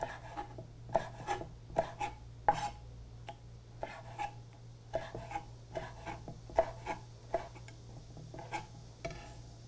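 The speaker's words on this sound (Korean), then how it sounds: "머리 부분도 썰어주세요" A knife slices a squid head into 1 cm rings, a steady run of sharp close taps on a cutting board in quick clusters with short gaps, soft overall over a low background hum, with no voices.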